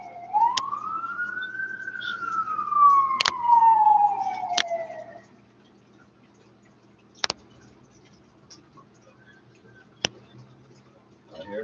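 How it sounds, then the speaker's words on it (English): A wailing emergency vehicle siren rises and falls for several seconds at moderate distance, then fades, leaving sharp clicks against a quiet background. "I heard quite a few sirens."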